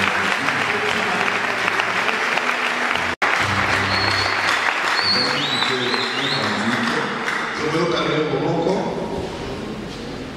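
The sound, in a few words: church congregation applauding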